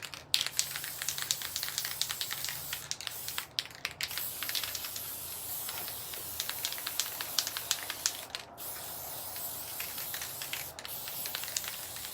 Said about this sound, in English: So first we're gonna spray paint everything.